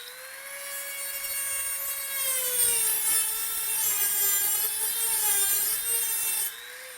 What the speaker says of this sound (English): you take your Dremel and you cut a slot across the top of it like this